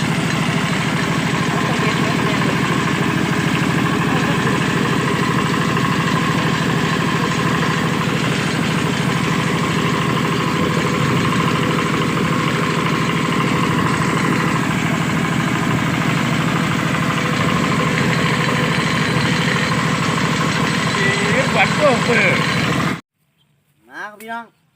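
A tractor engine idles steadily with a low, rumbling drone for about twenty seconds, then cuts off, followed by a brief burst of sound.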